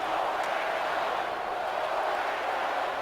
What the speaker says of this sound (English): Listen to this crowd. Go Pack go.